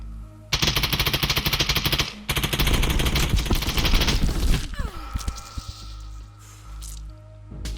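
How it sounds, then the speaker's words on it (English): Rapid automatic gunfire from a rival team in Contractors Showdown, loud close bursts of fast repeated shots with a brief gap, then trailing off into scattered pops and quieter ambient noise. "We are getting shot from another party as well."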